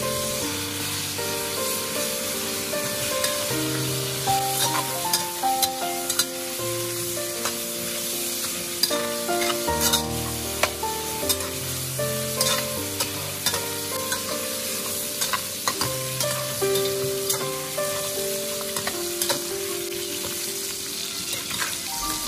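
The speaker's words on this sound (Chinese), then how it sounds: "将排骨里面的水分炒干" Pork ribs stir-fried quickly in a wok to render fat and dry out moisture, a loud steady sizzle with repeated scraping and tossing of a spatula across the pan, no talking.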